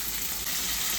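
Onion tipped into hot oil with curry leaves on an induction cooktop hisses and sizzles loudly and steadily, close by. No voices are heard over it.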